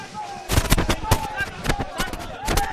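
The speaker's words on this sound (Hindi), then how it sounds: "आप देख सकते हैं ढोल धमाकों के साथ आतिशबाजी की जा रही है" Firecrackers bursting in rapid, uneven volleys alongside dhol drumming at a Congress party office celebrating municipal election results in Madhya Pradesh, loud and close over crowd noise.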